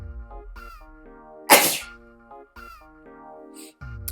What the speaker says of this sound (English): I just sneezed very violently